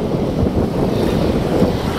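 Strong wind buffeting the microphone during a morning bike ride through Poblacion, Makati, producing a constant loud, low rumbling roar with no voices heard.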